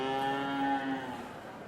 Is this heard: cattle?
yes